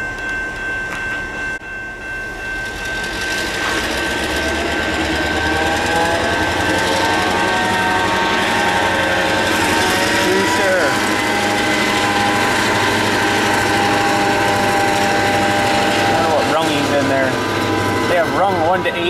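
Old town train locomotive easing off full power and coasting, a steady rumbling drone with a high sustained whine and shifting tonal lines, continuous and fairly loud throughout.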